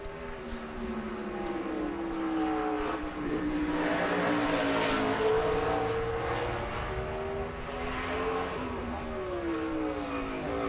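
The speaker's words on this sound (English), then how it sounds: "Here's Sauter in the 70 car." A NASCAR stock car at speed on track during qualifying at the 2007 Toyota/Save Mart 350, its engine a loud, continuous roar with shifting pitch that rises and falls as it passes, steady throughout.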